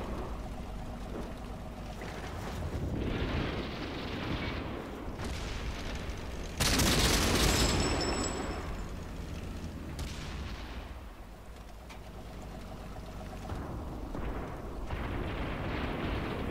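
A World of Tanks tank cannon empties its autoloader clip in a run of heavy, booming shots, with the loudest blast about midway, then rumbling battle ambience.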